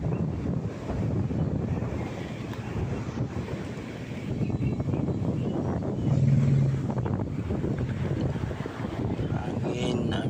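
Strong wind roars across the microphone and waves wash in on the shore during a typhoon, a dense, continuous rumble that stays loud and near with no pause.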